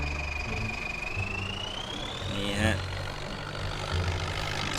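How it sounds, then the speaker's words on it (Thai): A Ford 8210 tractor engine idles with a steady low rumble in Farming Simulator 19, a continuous drone with a rising whine in the background and no talking. "นี่ครับรถไถฟอร์ดอีกเหมือนเดิมครับ"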